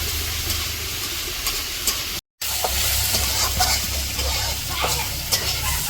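Bitter gourd and potatoes frying in a pan, a steady close sizzle and hiss with faint stirring scrapes, cut by a brief silent gap partway through before the frying resumes.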